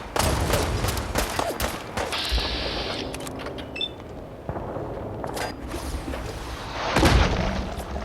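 A missile launcher fires and its rocket explodes in Fallout 4 during a fight with a legendary gulper, a loud booming blast and rumbling clatter throughout with mechanical clanks and a heavy impact near the end.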